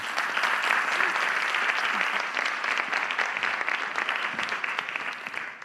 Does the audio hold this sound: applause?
yes